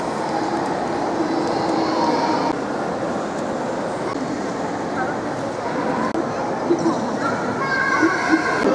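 A train at a Korean railway station on the Busan to Seoul line rumbles and hums steadily, with clacking and brief squeals under continuous talk and station noise.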